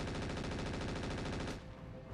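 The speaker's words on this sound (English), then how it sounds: "Machine guns onto the Locust" A machine gun in the mech battle game RogueTech fires a fast, steady stream of evenly spaced shots, loud and alone, then cuts off into a lower rumbling tail.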